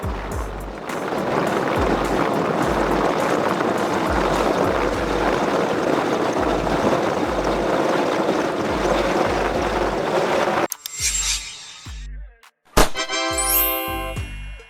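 A search and rescue helicopter thumps with loud, regular rotor beats over a heavy engine roar for about ten seconds, then cuts off abruptly into a few brief, unrelated sounds.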